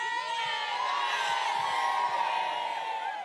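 A large, excited crowd at the Fortnite Summer Smash pro-am charity event at the Australian Open 2019, a dense, sustained roar of shouting and whooping voices.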